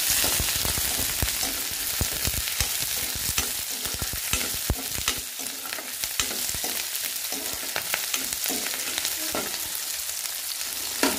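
Chopped onion and mustard seeds hit hot cooking oil for a sambar, and a loud, dense sizzle results, with sharp popping crackles scattered throughout as the pan is stirred, heard close and with no talking.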